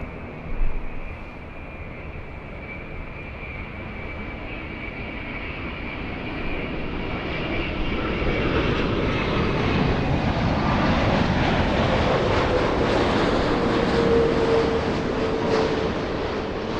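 A Southwest airliner takes off from runway 24 left, its engine roar building steadily from a distant rumble into a loud, sustained broadband rush with rising whine, heard alone with no talk.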